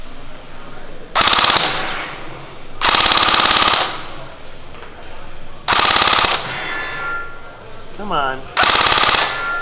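A CYMA AR 47 QBS airsoft rifle, an M4/AK hybrid, fires several loud full-auto bursts at a rapid rate with short pauses between them, and a person speaks briefly between bursts.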